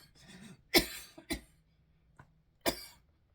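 Several sharp coughs from one person, with a brief throat-clearing in between, sitting close and fairly loud against a quiet room with no talking.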